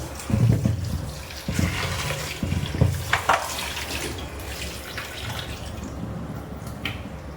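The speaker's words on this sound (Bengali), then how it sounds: "মাছটাকে ধুয়ে নিয়ে ভালো করে।" Tap water runs steadily into a sink while a catfish is rinsed, with splashy bursts and handling knocks up close, then a softer, continuous stream.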